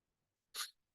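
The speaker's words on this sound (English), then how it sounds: "I apologize if I sneeze again" A single short, sharp sneeze bursts out of near silence, bright and breathy, lasting about a fifth of a second.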